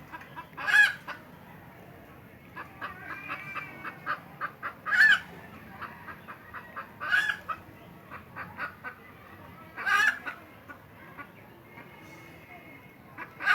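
Domestic chickens cluck close by in short, repeated bursts, with a few louder squawks spaced through the clip and soft background noise between them.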